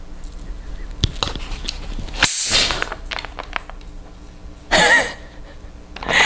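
A shaken beer can pops with a sharp hiss and a fizzy spray, then a second burst of spraying fizz a couple of seconds later, close by.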